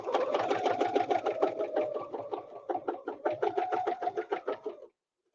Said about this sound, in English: I'm stitching over my beginning threads